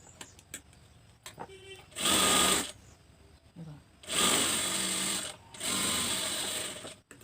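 A sewing machine stitches a folded strip for a blouse, running in three loud whirring bursts of one to two seconds each, separated by quieter pauses with small handling clicks nearby.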